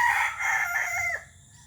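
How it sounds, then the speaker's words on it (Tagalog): A rooster crows loudly and close by, one long strained call that breaks off abruptly, with faint background noise after. "Ito na yung mga tandang ko guys."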